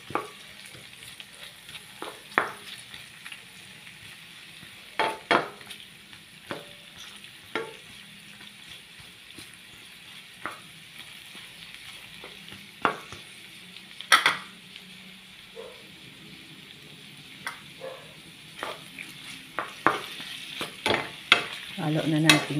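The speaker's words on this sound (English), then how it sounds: "Ayan, lutuin natin yung onion." Chopped onion frying and being stirred in a pan for a marinated lean pork dish, a steady soft sizzle under repeated scraping and clacking stir strokes, close and alone.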